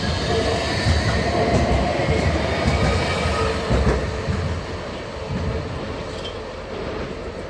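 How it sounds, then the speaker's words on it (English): A tram passing through Nottingham, a steady loud rolling rumble with a rail hiss and faint wheel squeal that slowly eases off as it moves away. "And there goes that tram as well."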